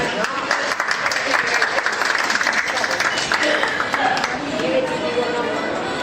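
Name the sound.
applause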